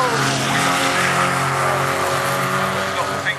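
A race car at Castle Combe circuit restarts after a spin, its engine note droning steadily and fairly close, with some tyre noise mixed in, while people talk faintly underneath.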